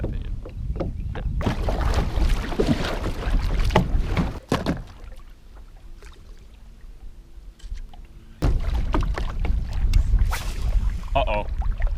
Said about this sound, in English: So we're just gonna paddle on up, drift down